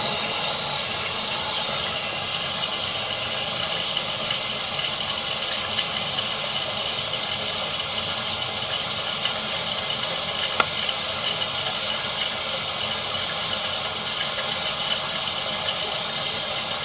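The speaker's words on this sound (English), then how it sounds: "I want to run some water in here." Steady rushing water flows continuously through a sewer pipe, a constant hiss and gurgle with no voices, one small clank partway through.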